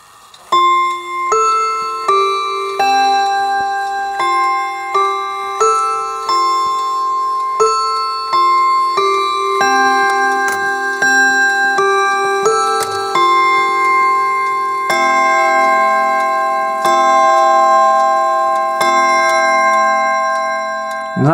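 An 8-day Hermle Westminster chime wall clock plays a long run of ringing chime notes, roughly sixteen bright strikes in a steady melodic cadence, each sustaining into the next, loud and close with no talking over it.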